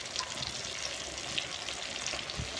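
Garlic frying in a pan with onion and tomato for a fish curry gives a steady, fairly soft sizzle with faint crackles, continuous and without speech.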